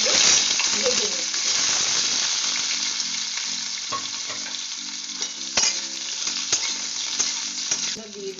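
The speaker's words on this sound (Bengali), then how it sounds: "এখন আমি আলুগুলো ভেজে নিচ্ছি।" Potatoes fry in a pan with a steady close sizzle, broken by occasional clinks and scrapes of stirring.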